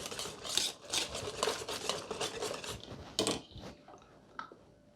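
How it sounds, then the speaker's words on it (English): Shredded potatoes being stirred by hand into beaten eggs and onions for latkes, a run of wet, squelchy mixing strokes with a few clinks against the bowl, close and fairly quiet. "We're going to add this to the eggs and onions. And now, very, very, very important, you have to mix this up."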